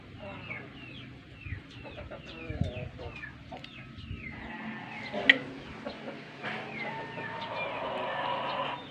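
Pelung chickens cluck steadily with a rooster crowing partway through, a busy barnyard chorus with some background voices.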